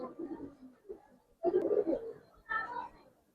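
Pigeons coo in low, throaty bursts at close range, with three separate phrases separated by short pauses and no talking.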